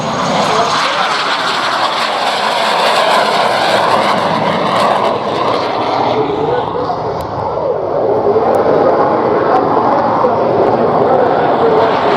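A propeller airplane drones loudly overhead in a steady, sustained roar at the Oshkosh EAA AirVenture 2021 airshow, with voices talking underneath.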